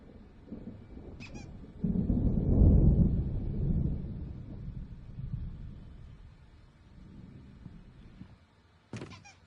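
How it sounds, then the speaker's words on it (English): A thunderstorm rolls through in the video game Alan Wake, a deep rumbling swell of thunder that builds, peaks and fades, with brief sharp creaks or squeaks at the start and end. "There's a storm coming. Oh, what a storm."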